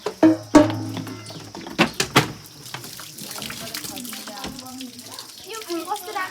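Water is poured and filled in a village setting, splashing and sloshing with a few sharp knocks of containers. Birds chirp faintly in the background.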